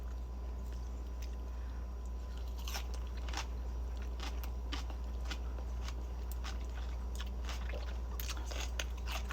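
Close, crisp crunching bites into a homemade Amish church pickle, sweet-sour with pepper and onion, followed by moist chewing, repeated several times over a steady low hum with no talk.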